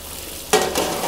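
Onions dropped into hot oil, a quiet background hiss that bursts into a sudden loud sizzle halfway through and keeps crackling up close.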